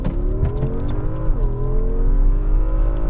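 A 2020 Porsche Cayenne Turbo engine pulls hard under launch control in Sport Plus, a steady loud rising drone from the cabin with a brief dip as it shifts, then continuing to climb.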